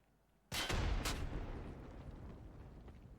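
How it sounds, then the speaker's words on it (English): A grenade explodes in the shooter game Escape from Tarkov Arena: one sudden loud blast after a quiet start, a quick second crack, then a long rumbling decay. "Early nade does a little bit of damage."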